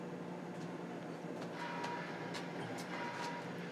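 A model railroad train running on a home layout, a soft steady rumble and whir of small wheels on track with faint intermittent clicks and ticks.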